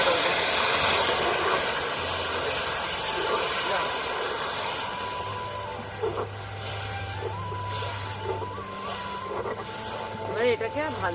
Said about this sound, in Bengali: এবার আমি এর মধ্যে জল অ্যাড করব